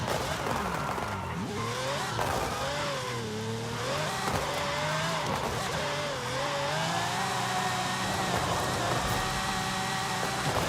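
A Ferrari in Forza Horizon 5 accelerates hard along a road at sunset, its engine note climbing and shifting steadily with faint tire noise, loud and continuous over low game sounds.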